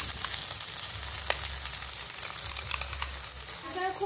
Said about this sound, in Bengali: কড়াটা গরম হয়ে গেছে, দিয়ে দেবো 2 চামচ মতো ঘি হয়ে গেছে। এবার গাজর বাটাটা দিয়ে দেবো।